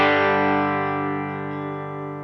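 Electric guitar played through Two Notes Genome amp software into two 4x12 cabinets panned left and right: one sustained distorted chord rings out and slowly decays, alone and without talk.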